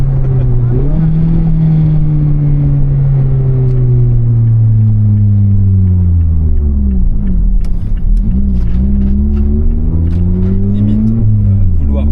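A 2019 ND Mazda Miata being driven, with a loud, close engine hum whose pitch falls and climbs again through downshifts, and a brief dip before it picks back up.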